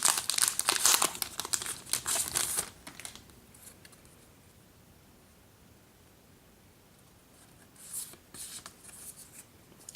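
Crinkling and rustling of Blu-ray steelbook art card postcards being handled up close, busy for the first few seconds, then near-quiet before another short burst of rustling.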